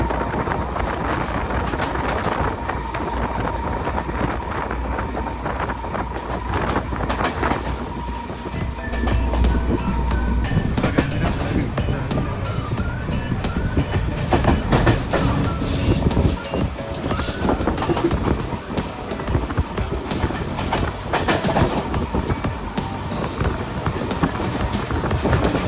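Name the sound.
train running fast, Badulla to Colombo, Sri Lanka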